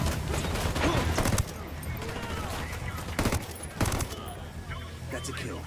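Gunfire in the Ghost Recon Wildlands video game during a raid on a coca farm, with sustained rattling shots and sharper individual cracks, loud and close, with players talking over it.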